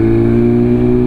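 A BMW S1000RR M Package superbike ridden through busy city streets, its engine holding a loud, steady harmonic drone close by throughout with no voices.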